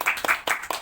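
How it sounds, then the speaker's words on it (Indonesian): A group of mothers clapping hands together in a classroom lesson, four quick distinct claps in a brief burst, fairly close and moderately loud. "tepuk tangan dulu."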